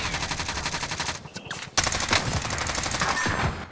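Sustained automatic gunfire in Call of Duty: Warzone, loud and close, with rapid regular bursts that cut out briefly and then resume at full intensity.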